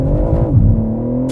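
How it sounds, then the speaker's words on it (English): A 2025 BMW M3 Competition Touring wagon with a twin-turbo 3-liter inline-six launches hard under launch control in Germany, a short loud engine roar whose pitch climbs and then holds strong close by. "2025 BMW M3. Competition touring in Germany with launch control."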